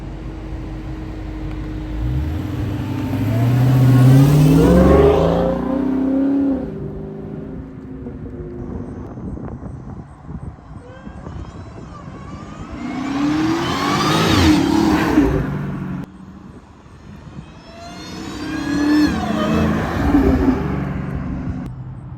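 A lowered 2021 Dodge Charger Hellcat Redeye revs and roars past in several loud flybys, each swelling in and fading away, with quieter gaps between passes.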